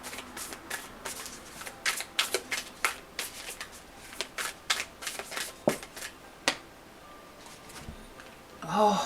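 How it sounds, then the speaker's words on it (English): Animal spirit oracle cards being shuffled by hand: a run of crisp, irregular riffling and slapping bursts, close and moderately loud, with brief pauses between shuffles and a louder rustle at the end. "So let's pull a animal spirit card for you."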